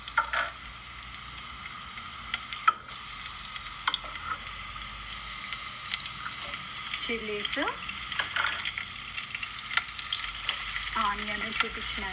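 Garlic frying in olive oil, a steady broad sizzle running the whole time with occasional stirring scrapes, fairly close and continuous with no talk over it.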